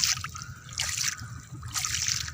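Sea water trickles and laps around bare feet at the edge of a beach in Abu Dhabi at night, a soft, steady wash with two gentle surges rising and falling, close by, with no talking.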